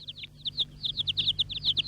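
Baby birds in a nest in a 1969 animated children's cartoon chirp in rapid, thin, high tweets, a quick run of bright peeps over a faint low hum, with no talking.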